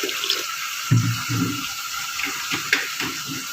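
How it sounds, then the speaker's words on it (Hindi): Garlic water poured into a cooking pot holding chopped tomatoes, green chilies, ginger and onion, giving a steady liquid splash and trickle lasting a few seconds, with small bursts, close and moderately loud. "लहसुन का पानी ऐड करेंगे।"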